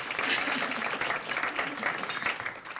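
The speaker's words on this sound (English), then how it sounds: "Okay, you could have clapped there for yourselves" An audience applauds in a fairly steady wash of clapping that is moderately faint and holds level throughout.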